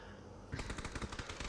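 Rapid automatic gunfire in the video game PUBG, a quick burst of shots starting after a short pause, moderately loud and alone.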